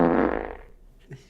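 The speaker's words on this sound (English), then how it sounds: "No one heard the fart." A single loud, low, rumbling fart lasting under a second that fades out, followed by a brief faint sound, with no talk.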